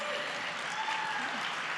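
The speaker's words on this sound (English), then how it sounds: "Let's give him a big round of applause." Audience at a charity gala applauding, a dense and even round of clapping from a large crowd with faint voices underneath.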